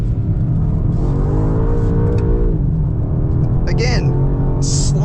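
Engine of a 2025 BMW M5 while sliding in four-wheel drive mode, a loud, steady low-pitched drone with rising and falling revs, heard from inside the cabin alongside someone talking.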